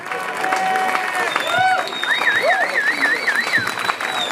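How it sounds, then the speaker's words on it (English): Applause and cheering from a crowd at a sailing prize-giving ceremony, dense clapping with whoops and sung or shouted voices rising over it, fairly loud throughout. "So a big applause to Alessandro Cesarini"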